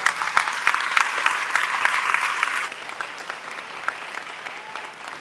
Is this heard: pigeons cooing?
no